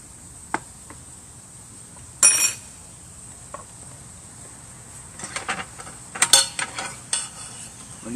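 Sorrel sautéing in melted butter in a pan over heat while it is stirred. A faint steady sizzle runs underneath, broken by a few sharp scraping and clattering bursts from the utensil near the middle and end.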